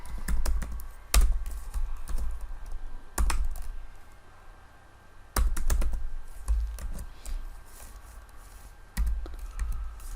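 Computer keyboard typing code, heard as bursts of close key clicks separated by brief pauses, with some louder clustered strikes, in a quiet room with no talking.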